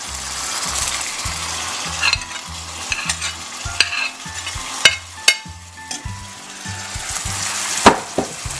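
Liver with onions, seasoned with salt, pepper and garlic, is stirred in a frying pan. The spoon scrapes and clinks against the pan in uneven strokes over a steady sizzle, with a low rhythmic thumping underneath throughout.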